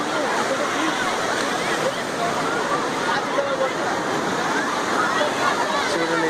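Steady rushing surf of sea waves at Mahabalipuram beach, a continuous broadband wash with crowd voices murmuring faintly underneath.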